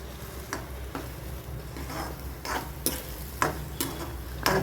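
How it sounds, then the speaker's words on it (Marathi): Jaggery melting in a pan for a coarse semolina sheera, stirred with a spoon in a series of soft scrapes and clinks over a steady low hiss, fairly close and alone with no voices. "हा आता आपण गूळ वितळून घ्यायचा आहे"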